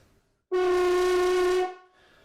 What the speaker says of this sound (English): I'm going to do a funny sound on the French horn.